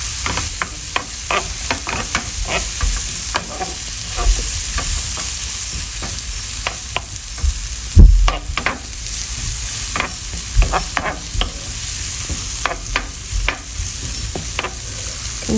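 Bacon, mushrooms and garlic fry in a large pan, a continuous sizzle broken by repeated sharp clacks and scrapes of stirring, close and fairly loud.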